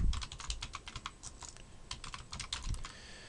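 Fast, light clicking of keys on a computer keyboard as a short entry is typed, a steady patter of crisp taps in uneven bursts, close and fairly quiet, with no voices.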